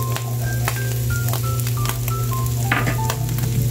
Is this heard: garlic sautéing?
yes